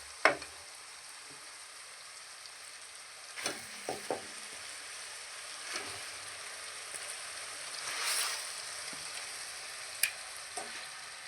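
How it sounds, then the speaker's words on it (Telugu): Fish pieces dropped into hot oil for a Telugu-style fish curry give a soft, faint sizzle with occasional louder spits and stirring clicks, heard alone without speech. "ఆయిల్ పైకి వచ్చిందండి బాగా వేగింది ఇప్పుడు చేపల ముక్కలు వేసేసుకున్నాం"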